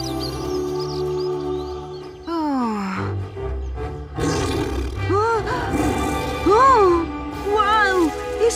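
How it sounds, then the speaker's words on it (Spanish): A cartoon tiger lets out a loud roar within a Thomas and Friends Christmas episode, mixed with animated voices and swooping cartoon sound effects, with the roar bursts rising and falling over several seconds. "Ese definitivamente es un tigre."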